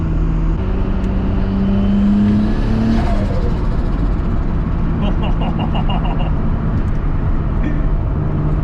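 A tuned Nissan Skyline R33 engine drones loudly up close, its pitch climbing in a rev before settling into a steady idle-like hum, with indistinct voices briefly over it.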